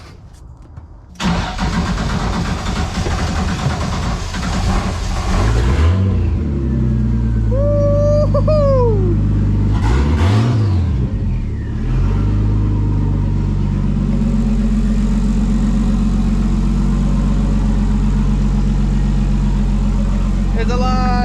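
A Nissan S13 project car, rebuilt from a totaled shell, cranks and fires up loudly after a brief quiet start, then settles into a steady, close rumbling idle with a few blips of revving while people talk over it.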